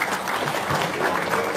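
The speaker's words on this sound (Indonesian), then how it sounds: "Tepuk tangan dong." Brief, steady clapping from an audience at an Indonesian religious talk on debt, dense and fairly close, lasting under two seconds.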